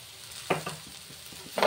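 Ginger garlic paste frying in a pan, a short soft sizzle with a couple of stirring scrapes, close by.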